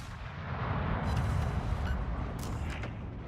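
Battleship cannons booming in World of Warships, a heavy rolling roar of gunfire that swells and lingers as a dense, loud rumble, with no talk.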